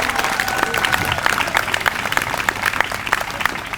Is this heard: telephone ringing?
no